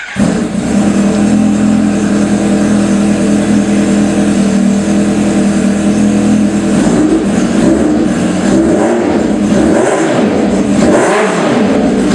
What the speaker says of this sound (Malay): So itu dia bunyi dia punya exhaust.